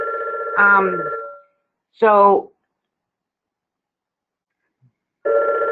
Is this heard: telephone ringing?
yes